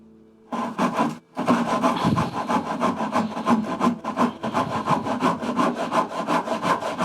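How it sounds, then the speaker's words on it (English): A hand saw cuts a wooden tenon for mortise-and-tenon cabinet joinery, starting at the toe end against a guide groove; a short trial stroke, a pause, then steady, close, rhythmic back-and-forth rasping strokes. "We'll bring the saw in against this little groove as a little reference point."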